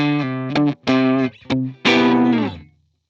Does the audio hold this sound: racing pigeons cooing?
no